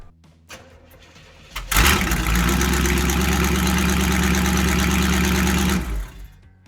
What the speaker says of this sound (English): I want to go ahead and fire it up and just see what it sounds like straight pipes before I put the rest of the muffler on